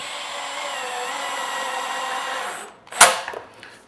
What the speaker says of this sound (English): You can hear the clutch engage on this driver too